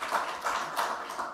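Scattered audience clapping at a city council meeting, several soft bursts of hands rising and fading at a moderate distance, with no voices over it.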